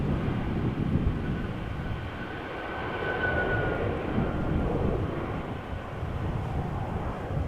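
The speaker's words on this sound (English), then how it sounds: "Kalitta 747 now taking off runway 24." Kalitta Air Boeing 747 taking off on runway 24 at Amsterdam Schiphol, a steady broadband roar of jet engines heard from a distance, holding fairly constant throughout with no talk over it.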